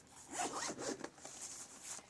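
Someone works the small front zip on the fabric case of a journaling kit, giving a soft, close zipping rasp that comes in a few quick strokes with short breaks between them.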